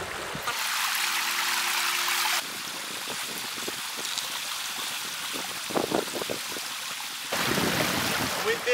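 A river runs steadily between two banks where its width is being measured, giving a continuous close rushing wash with brief louder surges and faint talk in the background.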